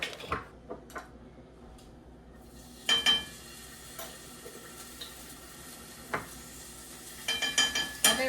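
Garlic cooks quietly in a pan for vegetables, with a soft low sizzle under scattered clinks and scrapes of a spoon against the pan, and a few sharper knocks near the end.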